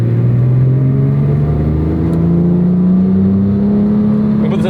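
A Porsche 997 GT3 idling with its flywheel chattering as the clutch is released, a steady low engine hum with a slowly rising tone and rattly mechanical texture, close and loud.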